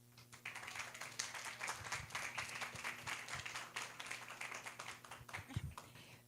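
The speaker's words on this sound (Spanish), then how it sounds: "Recibamos por favor a Margarita con fuertes aplausos" Audience clapping at a Peruvian event on creating subnational protected areas as a speaker named Margarita comes up; quiet, fairly distant applause with sharp individual claps and a low background hum.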